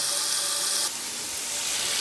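Steady hiss of water spraying from a shower in a rented home abroad, continuous and fairly loud for the whole stretch, with a slight drop in level partway through.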